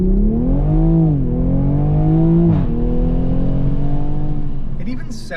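A 2020 Toyota Supra engine accelerating, loud and close, with a steady rising and falling engine drone through a couple of gear changes and a brief whine at the end.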